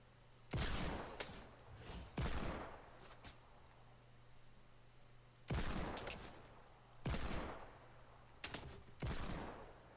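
Several loud gunshot bursts from a Desert Eagle pistol in a shooter video game, coming in sharp separated groups of one or two cracks across the stretch, with no talk over them.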